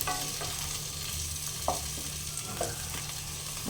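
Potatoes frying in a pan give a steady, close sizzle with occasional scraping stirs, and no one speaks.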